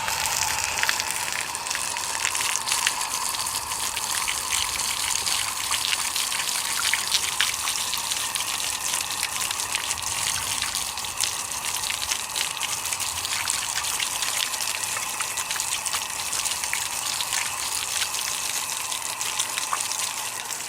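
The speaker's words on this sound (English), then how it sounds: "I'm just gonna use the hose, and we're just gonna gently wash it down" Water from a garden hose gushes and splashes steadily across a Porsche 911 3.2 Carrera engine during an engine wash, a constant, moderately faint hiss and spatter lasting throughout.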